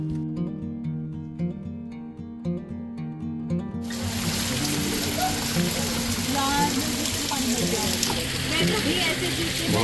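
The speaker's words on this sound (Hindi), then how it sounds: "इस प्राकृतिक झरने को देखकर मुझसे पंच स्नान करे बिना नहीं रहा गया।" A natural mountain waterfall on the Kedarnath trek rushes as a dense, continuous roar of falling water, loud and close, taking over after a few seconds of tonal music at the start.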